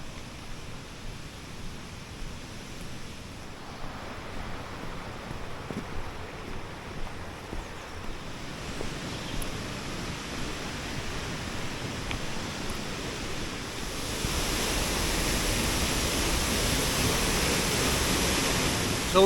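Summer Hill Force waterfall at Gibson's Cave sends up a steady, broadband roar of falling water that swells noticeably louder toward the end, with no voices over it.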